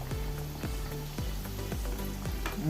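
Snacks fry in hot oil in a kadai, a steady loud sizzle with bubbling crackle and a few rhythmic stirring or tapping knocks against the pan, no voices.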